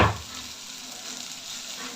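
Steady close sizzling of onion and coconut sautéing in a pan for chutney, a bright continuous crackle with no voices.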